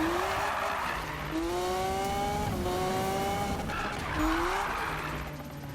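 A car drifting in a drift trial event in Need for Speed 2015, tires squealing in long rising and falling whines over a steady engine roar, several slides in a row, loud and close.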